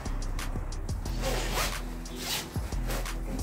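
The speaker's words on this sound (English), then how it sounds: "Unzip it." Clothing zipper being unzipped during preparation of boutique garments, a close raspy zip sound in several quick strokes with brief pauses between them.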